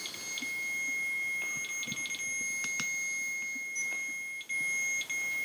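Electronic ghost hunting meter emitting a few short, thin beeps against a steady high tone and faint room noise during a paranormal investigation in Citrus Heights, California, with no talk.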